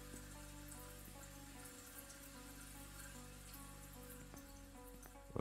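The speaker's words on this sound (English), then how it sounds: "We're running water." Faint running water from a tap in the game Autopsy Simulator, a soft steady flow heard alone against a low electrical hum.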